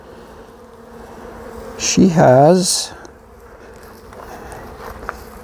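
Honeybees from an opened hive swell into a brief, loud buzzing close by, then fade, while someone talks.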